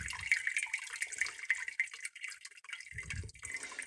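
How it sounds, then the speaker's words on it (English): Whey draining off fresh mozzarella curds in a home kitchen, a steady trickling, splashing flow of liquid heard up close, continuous and moderately loud with a heavier splash near the end. "Let most of the whey drain off."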